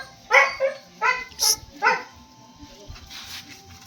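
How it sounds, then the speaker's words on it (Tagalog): A dog barks several times in quick, close yips, followed by a quieter whine-like tail amid faint background noise. "Ada, aso si Sigwi."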